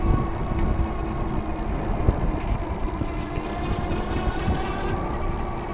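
Super73 S2 electric bike rolling under 10 mph, its rear hub giving off a steady droning hum blended with constant road and wind rush, unbroken for the whole stretch with no talking.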